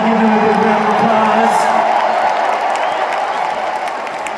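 An arena concert crowd at a show claps and cheers from a distance, a steady wash of applause under a voice that speaks briefly at the start.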